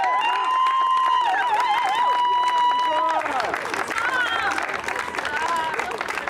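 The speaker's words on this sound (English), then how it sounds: "keep an applause going for Rowan and that great reading" Audience applause and cheering follow a reading of the Declaration of Independence at a live show, a crowd of clapping hands under whoops and some chatter, easing slightly toward the end.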